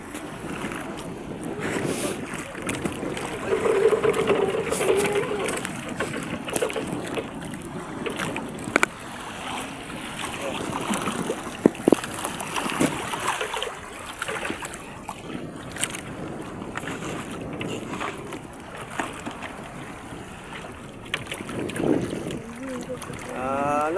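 Water sloshing and slapping against a boat hull, with strong wind buffeting the microphone throughout and occasional faint voices.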